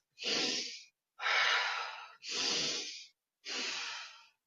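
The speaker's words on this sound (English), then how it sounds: "with breathing that is up and down. It's called fire breath." Four forceful breaths of a fire-breath breathing exercise during a guided meditation, strong hissing rushes of air close to the microphone, each about a second long and separated by brief silences.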